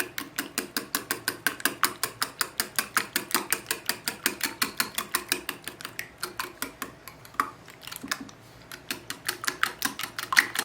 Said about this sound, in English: And now we just whisk this together.